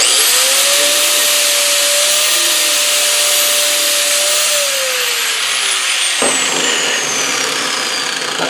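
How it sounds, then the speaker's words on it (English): An angle grinder cleans up a metal edge during work on a Land Rover 200Tdi. It gives a loud, steady, close whine for about four and a half seconds, then winds down into a lower fading hum. "All you do is just get a grinder and just"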